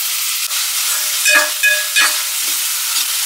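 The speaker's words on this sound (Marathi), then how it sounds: "तर आपण ह्याच्यामध्ये टाकूया टोमॅटो आणि थोडीशी कोथिंबीर सुद्धा." Tomato and coriander fry in a pan with onion, cumin, mustard seed and ginger-garlic paste, a steady loud sizzle broken by several scraping stirs of a spoon, close up with no talking.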